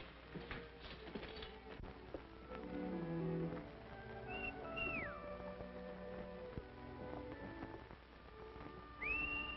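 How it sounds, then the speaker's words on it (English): A whistle sounds from a 1939 Western film, with two short rising-and-falling whistled notes over a background of low rumble and movement noise, and the second note comes near the end. "I could have sworn I recognized that whistle."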